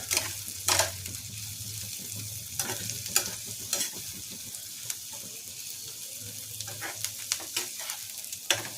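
Torka dal frying in a pan with Amul and almond butter, a soft steady sizzle broken by repeated scraping clicks of a spoon stirring, fairly quiet and close.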